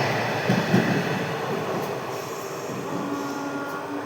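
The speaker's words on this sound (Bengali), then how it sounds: "কত বড় লম্বা ট্রেনটা দেখ।" Long Sealdah–Lalgola passenger train passing through Jiaganj station, a continuous loud rumble of rolling wheels and carriages with faint rail squeal, steady throughout with no talk.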